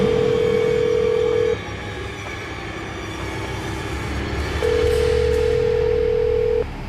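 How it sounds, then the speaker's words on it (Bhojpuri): An unanswered phone call plays a loud ringback tone, a long steady beep, then a gap of several seconds, then the beep again, over a low background rumble. "अश्विनी बाबू फोन नहीं को उठावत"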